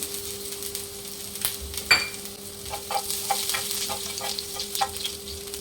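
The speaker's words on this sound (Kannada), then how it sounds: "ಇದಕ್ಕೆ ಶುಂಠಿ ಬೆಳ್ಳುಳ್ಳಿ ಚಿಕ್ಕದಾಗಿ ಅದನ್ನು ಹಾಕ್ಕೊಳ್ತಾ ಇದ್ದೀನಿ" Ginger and garlic sizzle and fry in hot oil for a paneer dish, with a steady crackling hiss and a few scraping stirs of a spoon in the pan, no voices.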